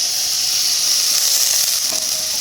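A splash of water goes into a pan of tripe cooking in oil with turmeric, coriander and chili powder, raising a loud, dense hiss of steam and sizzle that lasts briefly and has no talking.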